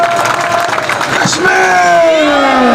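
A rally crowd claps and cheers loudly and continuously, with whoops rising over a dense, close wash of applause.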